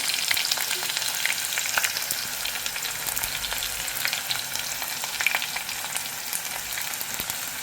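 Onion fries in a pan over low heat for a Konkani-style prawn and potato curry, making a continuous close sizzle with faint crackles and occasional stirring scrapes.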